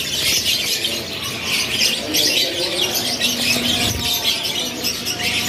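Many canaries trill and chirp together in a bird shop, forming a dense, continuous high-pitched chorus close by with a low background murmur.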